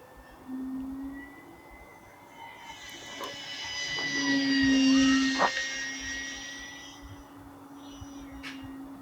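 An E-Flite Commander mPd RC plane's electric motor runs near full throttle outdoors in winter, a high whine that swells to a loud peak midway as the plane passes close, then fades back.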